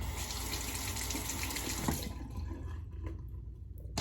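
An Ever Ready Streamline safety razor rinsed under a running tap, a steady close hiss of water that cuts off halfway through, leaving soft drips and light clinks.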